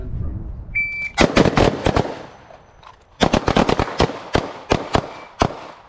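Carbine rifle gunfire during a carbine-to-pistol transition drill at an outdoor range: loud close bursts of rapid sharp shots in two clusters, with a brief pause between volleys.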